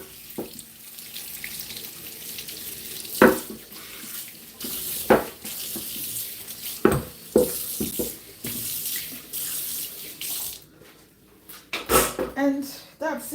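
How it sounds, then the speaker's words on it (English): Tap water splashes unevenly in a kitchen sink while a chopping board is rinsed, with bursts of running water, knocks and clatters of the board against the basin, and brief pauses between rinses. "Let's rinse out our chopping board."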